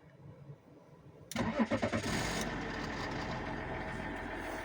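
A BMW E46 3.0 Touring cranks briefly and fires up, catching with a few pulsing surges before settling into a steady, fairly loud idle nearby, with no talking.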